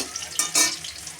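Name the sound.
chicken pieces frying in a pan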